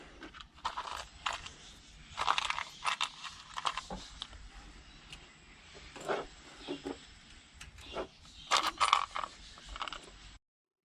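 Fasteners on a Porsche individual throttle body kit being tightened down with a hand tool: close, intermittent bursts of metallic clicking and ratcheting with small clinks of parts between them, loudest near the start and the end, and no talking.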